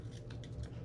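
Scissors snip through a paper planner sticker with a few quick, quiet cuts, close up and alone.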